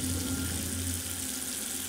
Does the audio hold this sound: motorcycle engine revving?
no